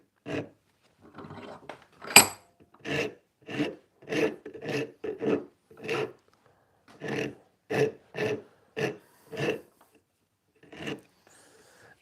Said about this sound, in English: Yeah, it's a Cinto rasp.